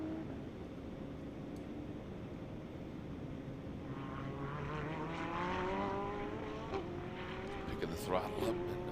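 GT race car at Circuit of the Americas during a GT World Challenge America race, its engine note rising steadily under throttle along a long straight, moderately loud beneath continuous commentary.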